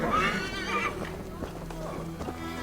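A horse in Assassin's Creed Valhalla gives a loud, close whinny in the first second, followed by softer snorting and clip-clop movement with game ambience.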